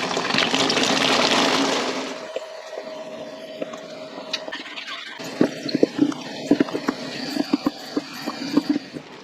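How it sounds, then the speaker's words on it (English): Cranberries poured into sugar water, a loud rushing pour at first, then scattered close splashes, plops and drips against a quiet kitchen background. "so we are going to add our cranberries to the sugar water."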